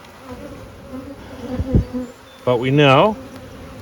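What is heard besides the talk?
honey bees buzzing around a hive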